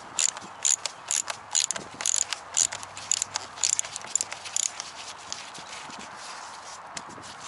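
A ratchet turns Torx T20 bolts to remove the shrouds on an Audi A6 C6 during a radiator replacement. Quick clicking comes in short repeated bursts close by, then fades to quieter handling noise.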